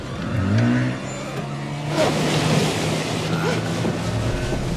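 An outboard motor boat in The Devil in Me horror game, its engine droning and revving steadily with rushing wind and water noise throughout.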